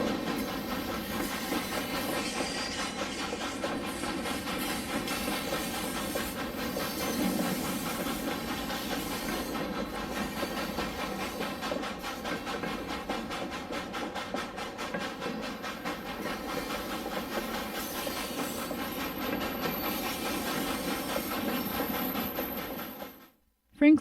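A 1940s-era HO-scale model railroad's short-line Shay locomotive number 105 runs with a continuous steam-like hiss and rhythmic mechanical chuffing, steady and fairly loud, before cutting off abruptly at the end.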